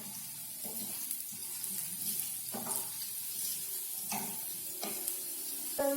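Onions sizzle in a pan for fried rice, a soft steady crackle broken by a few scraping stirs and clinks of the utensil.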